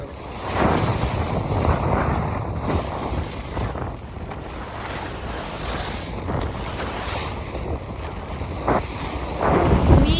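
Waves wash and slosh steadily around a sailboat on the open ocean, mixed with gusty wind buffeting the microphone.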